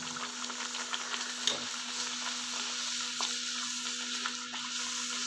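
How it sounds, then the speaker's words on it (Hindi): Bedmi puri frying in hot oil, a steady broadband sizzle and crackle that holds evenly throughout with small pops, close and alone with no talking. "हमारा ऑयल गर्म हो गया है, इसके अंदर डाल रहे हैं ये पूरी।"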